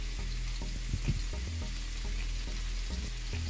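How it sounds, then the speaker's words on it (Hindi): Pieces of paneer tikka fry in a pan over a medium flame, giving a constant hiss and sizzle with a low hum beneath and occasional soft knocks, with no voices. "इसे हम मीडियम फ्लेम पे फ्राई करेंगे"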